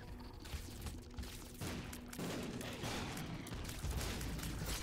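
Repeated explosions from The Binding of Isaac: Repentance, with many explosive items going off at once, making a dense, continuous barrage of booms and crackling blasts that stays loud throughout.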